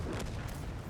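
A BZ-68 tier 9 heavy tank cannon fires in World of Tanks, a single heavy boom with a broad blast that rolls into a rumbling tail, loud and close.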